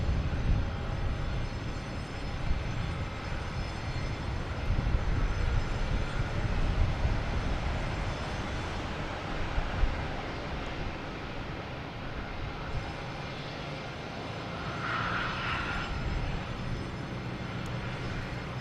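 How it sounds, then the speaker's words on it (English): A United Airlines Boeing 737 MAX 9 roars down the runway on takeoff at Boston Logan, a broad, sustained engine rumble heard from a distance that swells and then eases, with no talk. "We have United Airlines taking off on 4 right."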